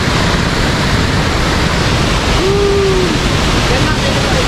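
Talay Falls at Hulugan Falls in Luisiana, Laguna roars as a loud, steady rush of falling water close by, with a voice briefly heard over it.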